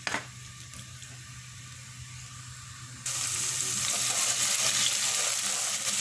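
A large, finely chopped onion goes into a quarter cup of hot oil in a pot. After a quiet moment, a loud, dense sizzle suddenly erupts and keeps going.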